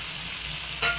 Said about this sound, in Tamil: இப்போ நம்ம தக்காளி போடலாம். தக்காளியும் நல்லா வதங்கணும்.